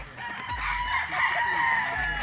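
Gamefowl rooster of the Early Bird Banded WPC line crowing loudly and close on a game farm, one sustained call over a steady low background hum.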